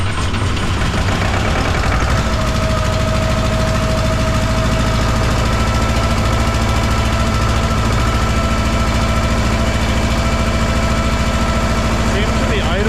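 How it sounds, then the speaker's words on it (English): A cold Wacker RD25 roller compactor engine idles at a high, constant pitch with a continuous low rumble and faint mechanical vibration throughout. "Seems to be idling pretty high."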